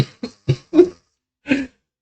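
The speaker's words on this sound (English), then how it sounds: "Except stop coughing." A person coughs in a quick burst of four dry coughs, then one more after a short pause. The coughs are close and clear with nothing else behind them.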